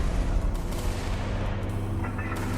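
Tank cannon fire and battle noise in a World War II tank video game form a loud, continuous booming rumble with heavy low-end thuds throughout.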